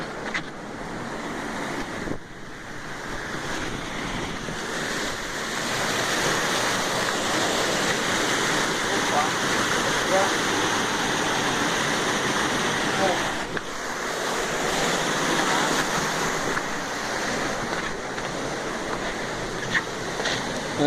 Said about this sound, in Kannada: ನಿಧಾನ ನೀರು ಫ್ಲೋ